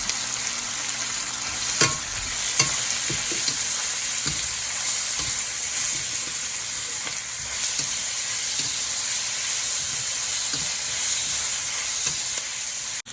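Chopped ginger, garlic and curry leaves hit hot oil for a Malaysian-style black pepper crab fry, giving a loud, continuous sizzle close by, with repeated stirring scrapes and taps from the spatula throughout.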